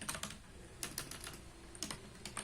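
Typing code on a computer keyboard, a quiet run of clustered key clicks in short bursts separated by brief pauses, close-up with no voice.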